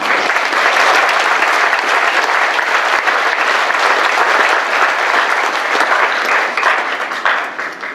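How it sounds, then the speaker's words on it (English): A graduation ceremony audience breaks into loud, sustained applause that fills the room steadily for several seconds, then begins to thin out near the end. "you all deserve a round of applause"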